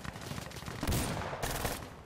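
Bursts of automatic gunfire in a first-person shooter video game, rapid rattling volleys fairly faint and close together over about two seconds.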